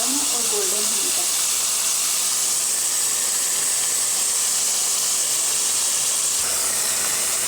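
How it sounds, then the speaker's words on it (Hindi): Onions fry in hot oil in a kadhai with a loud, even hiss that holds steady throughout, broken by a brief stir at the very start. "ऑयल में हमने प्याज डाल दिए हैं।"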